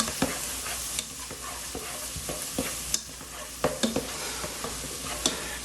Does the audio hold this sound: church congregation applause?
no